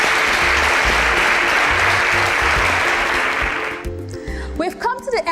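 Studio audience applauding at a competition show, dense sustained clapping that fades after about four seconds as a voice starts talking.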